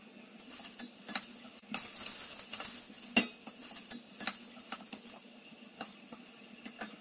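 Onions with salt and sugar sizzle and fry quietly in a pot over medium-low heat, with scattered scraping and stirring clicks of a utensil against the metal, no talking.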